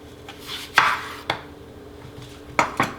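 A knife chops an onion into halves and hunks on a cutting board, giving four sharp, close thuds at uneven intervals with quiet pauses between them.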